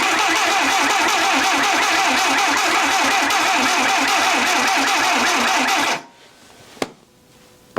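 A junkyard Willys engine cranks continuously for about six seconds, the starter churning in a fast rhythmic whir without catching, then stops abruptly, followed by a single sharp click and near silence.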